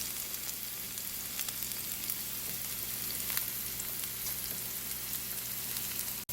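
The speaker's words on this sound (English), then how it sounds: "We just want to cook these peppers and onions until they start to caramelize just a touch." Onions and peppers sizzle steadily in an oiled pan, a continuous close, even frying hiss with faint crackles and no voices.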